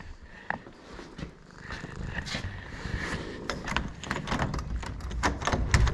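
A cat purrs steadily and close by in a farm barn, a soft continuous rumble with scattered knocks and rattles from the surroundings and no voices over it.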